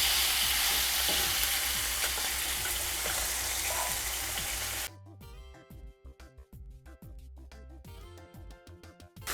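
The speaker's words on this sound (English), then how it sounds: "we're gonna fry this beef until it's finished and have a nice dark brown looking color to it" Marinated beef pieces fry in hot oil, a loud dense sizzle for several seconds that then drops into quieter crackling and intermittent spatters as the cooking continues.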